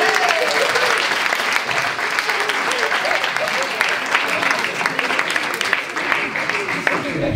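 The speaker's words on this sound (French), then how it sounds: "Est-ce qu'on l'applaudit?" Sustained audience applause fills a youth conference hall, dense steady clapping from a large crowd lasting throughout, with faint voices mixed in beneath it.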